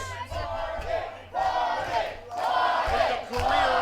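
A wrestling crowd at a Mid-Atlantic Territory Wrestling TV show roars and chants loudly for Party McFly in sustained, surging waves of cheering that swell and dip without pause.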